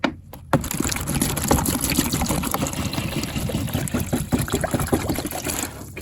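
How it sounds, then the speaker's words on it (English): Tap water runs steadily into a container being filled indoors for a hydroponic setup, a continuous close splashing trickle after a short quiet start, lasting several seconds with no talking. "go ahead and fill this up with some city water."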